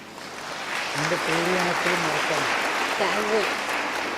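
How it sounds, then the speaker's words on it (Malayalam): Applause from an audience at a night vigil gathering, a steady wash of clapping with a voice talking over it partway through. "give them a clap"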